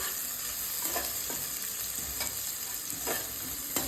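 Onions frying in a pan make a steady, close sizzle, broken by regular scraping strokes as they are stirred.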